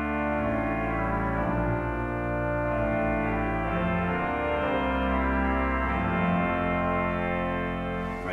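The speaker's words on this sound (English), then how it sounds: "There's a nice oboe, which we can add to the other 8-foots." William Hill pipe organ in All Saints church, Cheltenham, playing the oboe reed stop together with 8-foot stops, sustained rich reedy chords that change slowly, loud and continuous with no talking.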